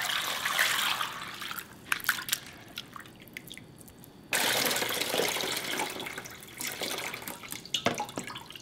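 Soaking water from soybeans pours and trickles into a sink, a steady wet splash with dripping, pausing briefly midway before a louder stream resumes.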